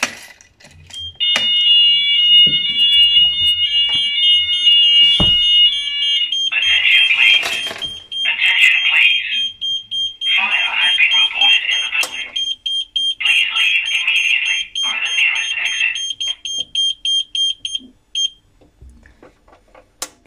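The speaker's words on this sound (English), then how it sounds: "Just a warning, the sounder is quite loud, so just bear that in mind." A Chubb ZoneMaster fire alarm sounder under test gives a loud, shrill electronic warble that repeats for most of the clip before cutting off, with someone talking over it and nearby clicks and rattles.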